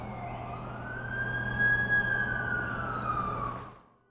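An ambulance siren in The Amazing Spiderman 2 video game sweeps up into a single long, rising and falling wail, steady and moderately near over a low engine hum, then cuts off.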